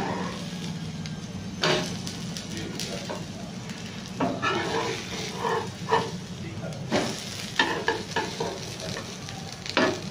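An egg bread omelette made with milk fries in a pan, giving a steady sizzle broken by scraping and clattering strokes of a spatula, with a voice talking now and then.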